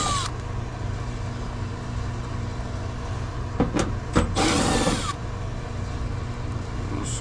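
Screws being backed out of the top of an evaporator motor on an R-22 package unit, heard as a few short metallic clicks and a brief burst of driver whir over steady low unit hum.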